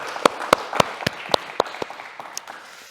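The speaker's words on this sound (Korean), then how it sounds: "우리 하나님께 영광의 박수 한번 올립시다" Rhythmic unison clapping from a church congregation during a Sunday worship service at Berlin Mission Church, about nine sharp, evenly spaced claps over a softer background of scattered hands, fading toward the end.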